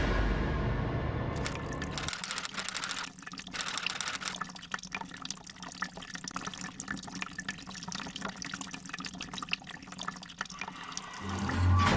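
Water pours steadily for several seconds, a bright splashing stream with drips and gurgles, close by and alone after a brief rumble at the start.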